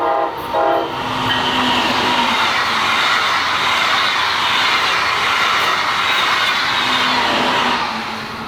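A Brightline passenger train in its Red Bull summer wrap rolls past loudly and steadily, with a low horn tone at the start and again near the end, filling the whole stretch.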